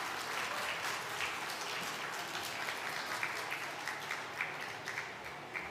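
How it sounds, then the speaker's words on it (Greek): Applause from an audience at a makeup demonstration event, a steady wash of clapping from many hands, fairly distant and soft throughout. "την Ιωάννα, με ένα θερμό χειροκρότημα."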